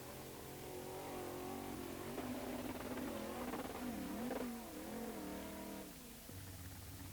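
A modified race car engine at an Akranes race revs hard and unevenly, pitch swooping up and down, loud and close, then dropping back toward a rough idle.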